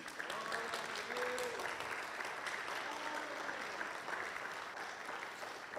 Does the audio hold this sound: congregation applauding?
yes